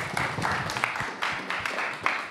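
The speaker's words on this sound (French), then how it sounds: "Je pense qu'on peut applaudir les intervenants." A conference audience in Strasbourg, at an entrepreneurship event, claps for the speakers: a steady, fairly close wash of many hands with no voices over it.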